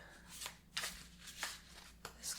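Repeated riffling and soft slapping of a tarot card deck being shuffled, several quick bursts in an uneven rhythm, close and quiet with no talking.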